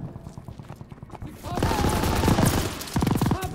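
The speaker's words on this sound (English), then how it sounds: "MG's hitting us." Machine gun fire in the Call of Duty WWII PC game, loud rapid bursts of automatic shots that swell midway and keep hammering in dense rattling strings, with faint battlefield voices underneath.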